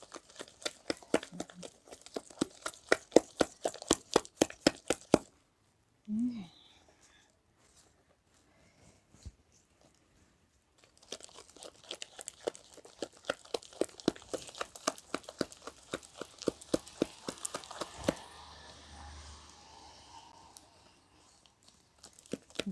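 Ground lentil paste beaten by hand with a little water, a fast steady run of soft wet slapping strokes, pausing briefly before the rhythmic beating resumes close up.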